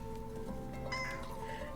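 A house cat named Miss Kitty gives a drawn-out meow up close, fairly soft, over a low steady background hum.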